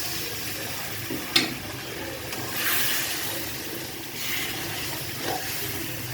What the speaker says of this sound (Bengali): এক চামচ পানি দিলাম গরম করে।